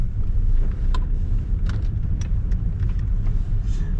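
A 2007 Toyota Corolla Verso with the 2.2 D4D 136 hp diesel, heard from inside while driving: a steady low engine and road rumble throughout, with faint ticks and wind noise over it.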